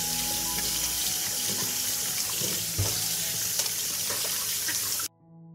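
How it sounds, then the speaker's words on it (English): Tap water runs steadily into a kitchen sink as fresh tomatoes are washed under it, a continuous close splashing with small knocks, stopping abruptly near the end. "First, I'll wash the tomatoes."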